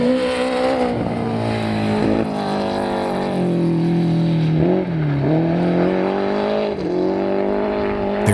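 A rear-wheel drive classic Datsun rally car is driven hard on a forest rally stage, its engine loud and close, revving up and down through gear changes with brief dips in the roar.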